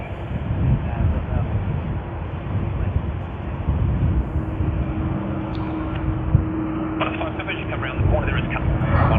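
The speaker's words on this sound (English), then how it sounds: "Alright, they have begun their takeoff roll." Malaysia Airlines airliner beginning its takeoff roll on runway 34 at Sydney Airport, a broad, steady engine roar from a distance with a low hum, rising slightly in the later seconds.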